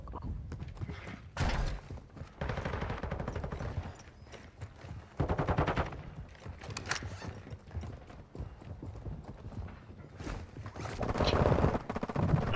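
Gunfire in a shooter video game, with bursts of rapid automatic shots alternating with quieter gaps and distant pops across the stretch.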